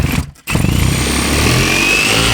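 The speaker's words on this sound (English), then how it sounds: "hopefully this jigsaw can get through" A jigsaw cuts a circle through insulation board: a brief stutter and dip, then a loud, close, continuous buzzing cut that runs steadily to the end.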